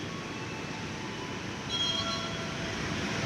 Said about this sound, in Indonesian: yang akan berangkat yang ini dulu teman-teman, kereta api Jakatingkir dulu